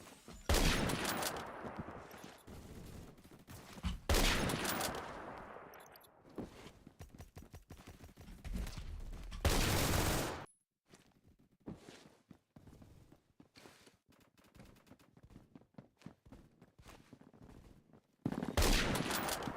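Unsuppressed Remington 700 rifle fire in the Roblox shooter Phantom Forces: a few sharp, loud bursts of gunfire separated by quieter stretches of footsteps and movement.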